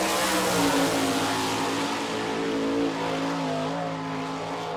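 Sprint race car with an Eagle chassis and Kreiner racing engine roaring steadily at a dirt speedway, loud sustained engine drone with layered harmonics and other cars blending in, no talk.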